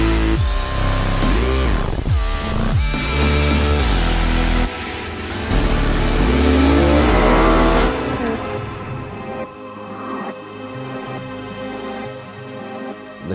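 A BMW E60 M5 with its 5-litre V10 and Evolve tubular manifolds revs hard on a dyno, loud rising and falling engine sweeps in repeated bursts, then settling to a lower idle-like drone.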